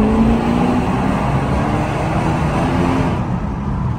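A Brabus E65 Mercedes W210 accelerating through a tunnel, a loud continuous engine roar that holds steady and echoes before easing slightly near the end.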